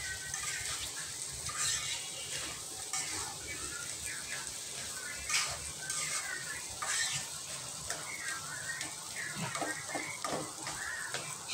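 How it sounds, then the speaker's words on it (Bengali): Vegetables frying in a wok, a continuous low sizzle with intermittent stirring scrapes and clinks running throughout, fairly quiet and close. "এটাকে আমি পুরো সুন্দর করে অনেকক্ষণ সময় ধরে এটা ভাজা করব।"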